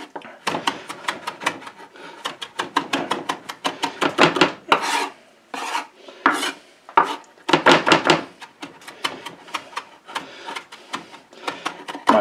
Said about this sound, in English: Definitely want to get this chopped up fine for this recipe here.